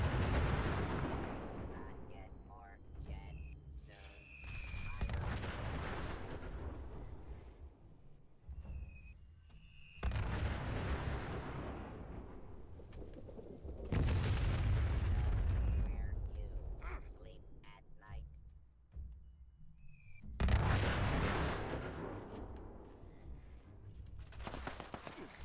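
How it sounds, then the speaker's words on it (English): Airstrike explosions in the video game Fallout 76 hit a wasteland-style house camp: several heavy, booming blasts arrive a few seconds apart, each swelling loud and rumbling away, with someone speaking in between. "Oh, we got the airstrikes coming in."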